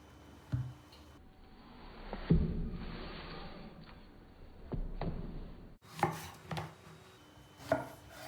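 A knife chops through zucchini on a board in a few separate thuds, spaced irregularly, close by with quiet pauses between.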